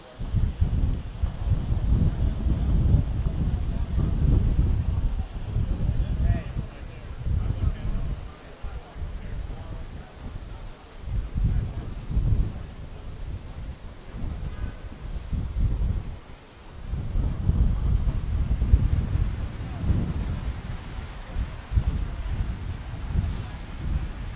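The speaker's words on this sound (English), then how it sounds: "Very windy this morning in downtown St." Strong wind buffets the microphone with low, gusty rumbling that rises and falls throughout, on a downtown St. Louis street in the morning.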